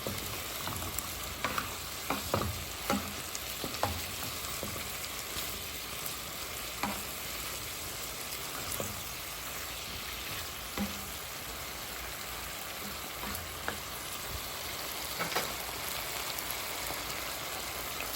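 Coconut milk in a pan with sweet potato tops, seasoned with garlic, simmering in a constant loud, rain-like sizzle with scattered small pops and occasional utensil taps, close by and free of talk.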